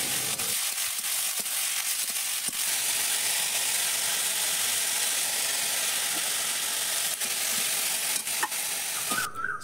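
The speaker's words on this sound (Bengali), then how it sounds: "তো সকালে ভাজবো আলু আর বরবটির ভাজা" Potatoes and yardlong beans fry in a pan with a constant bright sizzle, close and steady, broken by a few scraping stirs and light clinks, with no talking.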